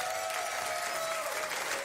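Crowd applause and cheering at the announcement of the Forward Madison FC soccer team name in Madison, a dense steady wash of clapping, fairly distant, with a faint tonal line running through it.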